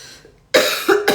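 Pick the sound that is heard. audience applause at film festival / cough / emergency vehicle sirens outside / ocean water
cough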